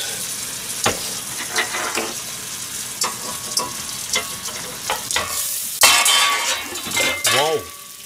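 Cinnamon-seasoned hamburger patties sizzle and crackle in a frying pan, with a steady hiss broken by utensil clinks and scraping as they are moved, then a louder burst of sizzling near the end.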